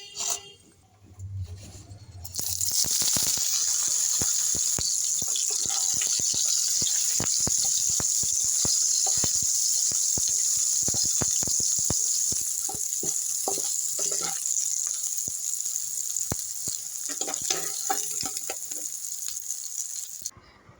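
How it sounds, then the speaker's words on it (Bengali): Soybean chunks rubbed with salt sizzle and fry in hot oil, a steady bright hiss that starts after a quiet moment and runs on loudly and evenly with scattered pops and clatters close by. "সয়াবিনটা আমি লবণ দিয়ে মাখিয়ে ভেজে নেব"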